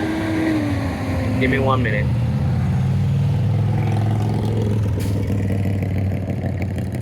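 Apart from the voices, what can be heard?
truck driving past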